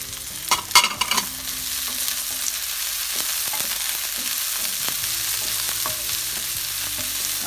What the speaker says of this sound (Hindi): तो हल्का सा सौटे करेंगे, थोड़ा सा क्रंची रहने चाहिए। इसके साथ ही ब्रोकली भी डाल देंगे।